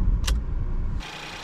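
A Ford Fiesta starting up: a loud low rumble of cranking and catching with a brief high jingle of keys, then settling into a quieter, even idle.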